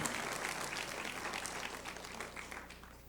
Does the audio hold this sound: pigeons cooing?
no